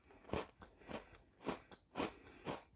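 Crunchy Swedish licorice gingerbread cookies being bitten and chewed, about five sharp close crunches in an even rhythm, with no speech.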